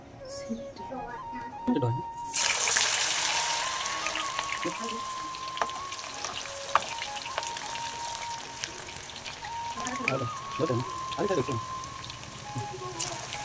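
Potato strips for french fries dropped into hot soybean oil, a sudden burst of sizzling that settles into a steady, crackling fry, with a voice talking over it now and then.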